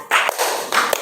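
Hand claps from a numbered group clapping routine, the 'clap three' pattern: two sharp, separated claps over a steady wash of broadband room noise.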